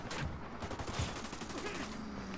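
Rapid bursts of gunfire from the video game Ghost Recon Wildlands, several close, loud cracks in quick succession over about two seconds, with no talking.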